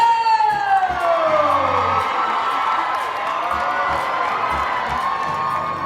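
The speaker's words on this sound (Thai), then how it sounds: "ทุกคนครับส่งเสียงและนำปรบมือให้กับแบรนด์แอมบาสเตอร์" Crowd cheering and clapping for a child brand ambassador at a Thai brand launch event, a loud, steady wall of shouts and applause with a rising whoop-like tone near the start and a voice faintly mixed in.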